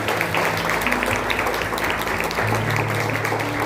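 A church congregation claps together in a steady, continuous wash of applause that fills the whole stretch at even loudness, with a low sustained tone running underneath.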